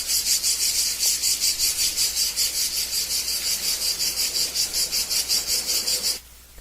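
One lone cicada calls close by with a loud, rasping buzz that pulses in a fast, regular rhythm for about six seconds, then stops abruptly; no voices.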